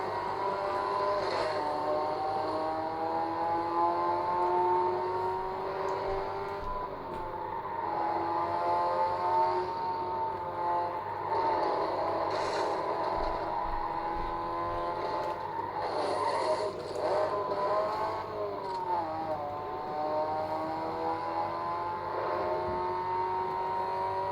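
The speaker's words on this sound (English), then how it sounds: "Time to brake for that corner and then turn around the corner." A car brakes and corners in a racing video game played on a Dell Inspiron 6000 laptop, with a continuous engine whine whose pitch rises and falls in waves as it slows and accelerates, steady and moderately loud.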